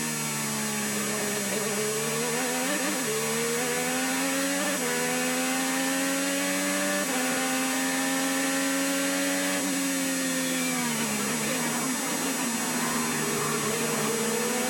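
An IndyCar at the Long Beach Grand Prix street circuit lifts off the throttle early, its loud engine note rising and falling through several gear changes, with steady broadcast hum underneath and no talk.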